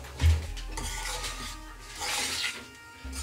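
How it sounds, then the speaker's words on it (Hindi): Flour for spiced immunity laddu roasting in a pan while being stirred, a soft continuous scraping and rasping with brief louder scrapes, close and steady throughout, no talking. "जब आटा भूने तो इसको छोड़ना नहीं है, चलाते रहेंगे साथ साथ।"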